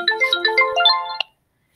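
Mobile phone ringtone playing a short, loud melodic chime of rising and falling notes, then cutting off abruptly into silence.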